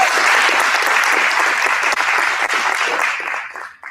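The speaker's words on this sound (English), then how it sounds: "Give Nathaniel a round of applause." Audience at a business workshop in Mitchells Plain applauds steadily for nearly four seconds, a dense close-up clatter of many hands that thins and fades at the end.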